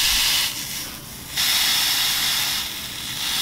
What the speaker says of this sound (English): you're gonna take your straightener now, and you're just going to steam it.